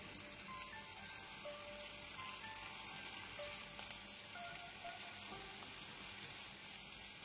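Potato sticks dropping one by one into an inch of hot oil over a medium flame, giving a steady, dense sizzle and crackle that runs evenly throughout, with no talking.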